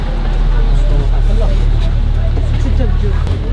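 Inside a moving bus travelling from Hanoi to Sapa, a steady low engine rumble and road drone fill the cabin, with faint passenger chatter mixed underneath.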